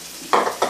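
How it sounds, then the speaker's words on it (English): Bacon strips sizzle in a frying pan, with two sharp bursts of hissing and crackle as the pan is stirred or food is added, close and loud with no talk. "I have some bacon frying up in this frying pan"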